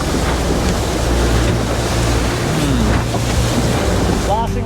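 Ocean waves wash steadily around a fishing boat out in rough, bad weather, a constant loud surge with wind buffeting the microphone and a low engine rumble underneath.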